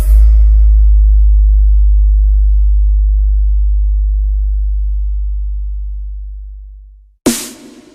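A loud, deep bass test tone for a DJ sound check holds steadily and slowly fades for about seven seconds, then cuts off into a short burst of noise.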